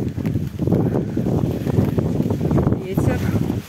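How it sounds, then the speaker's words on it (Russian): Gusty wind buffets the microphone on a fog-covered mountain in rain, a loud continuous roar with a short dip near the start, while people talk under it. "Ветер."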